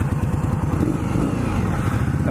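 A new motorcycle's engine running on its first ride, a loud, steady low rumble with a rapid pulsing throb throughout, close up and with no talking.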